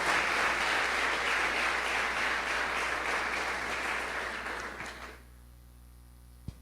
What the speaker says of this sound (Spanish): ¿Cuántos dan palmas al Señor?